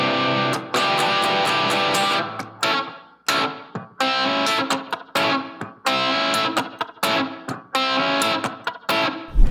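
Distorted electric guitar plays a glam rock riff, loud and close, with chopped rhythmic chords, short stabs and brief gaps between phrases, and no voices.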